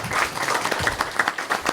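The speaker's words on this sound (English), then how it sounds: "Let's give Douglas a round of applause." A short burst of audience clapping at a community candidate forum, a loose cluster of distinct hand claps from a modest crowd lasting under two seconds.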